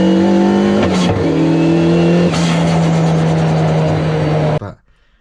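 A car driving fast revs hard and loud up through quick gear changes, engine pitch climbing then dropping at each shift, before cutting off abruptly into near silence.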